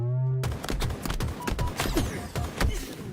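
Grenades go off in a competitive Halo match as a rapid string of sharp bursts and blasts, loud and close, following a steady tone at the start.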